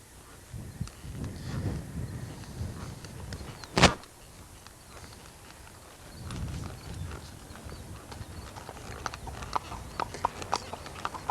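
A ridden horse's hooves clip-clop in an irregular rhythm, with a loud bump partway through and quicker, sharper hoof strikes toward the end. The sound is moderately close.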